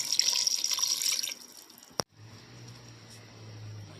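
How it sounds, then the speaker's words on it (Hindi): Water pours from a glass into a cooking pot for dum pukht, a steady close splashing for over a second that tapers off, followed by a sharp clink and then quiet low simmering. "अभी हम इसमें एक अदद गिलास हमने इसमें पानी ऐड कर लेना है"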